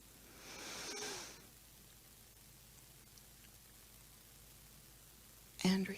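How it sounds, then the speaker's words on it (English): A single deep breath drawn in and let out, a soft airy rush lasting about a second, followed by quiet room tone, then a voice begins speaking at the end. "Take a deep breath in."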